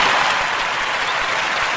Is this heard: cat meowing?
no